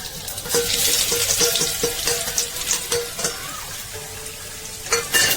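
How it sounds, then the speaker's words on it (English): Ginger sizzles and crackles in hot oil in a wok during Chinese-style veg chowmein cooking, with a steady frying hiss broken by scraping stirs and light clinks of a utensil, fairly close. "Oil is hot now, so I'm putting some ginger first."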